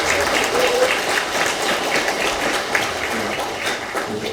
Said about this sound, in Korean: 우리 보고해 주신 박경수 집행위원장님께 박수 한번 부탁드립니다.